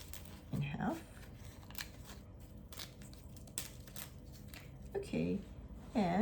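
Scissors snip while something is cut in half during dango preparation, giving a few quiet clicks and scrapes at close range. A voice hums and makes brief sounds at moments.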